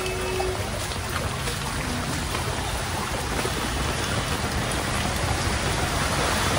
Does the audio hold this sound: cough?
no